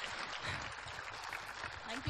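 An audience at a panel discussion applauds in a quiet, distant, continuous wash of clapping that lasts the whole short stretch.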